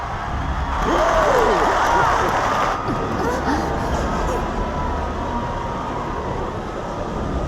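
A large crowd cheers in Final Fantasy XIV: Dawn Trail, forming a dense, steady wash of voices and whoops that swells early and then settles, and a speaking voice talks over it.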